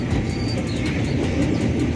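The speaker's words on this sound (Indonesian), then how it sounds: "Kereta sudah diberangkatkan menuju ke stasiun Tanah Abang sebagai stasiun transit." A commuter train pulls out of Tanjung Priok station bound for Tanah Abang, giving a steady, continuous rumble of wheels and engine with a faint rhythmic clatter throughout, no voices.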